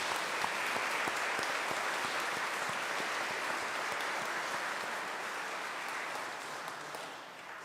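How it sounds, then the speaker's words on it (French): A church congregation at a Pentecost Sunday Mass claps for the choir, a dense, steady wash of many hands that holds for several seconds, then thins and fades slightly toward the end. "joignez vos mains avec mes mains pour les applaudir"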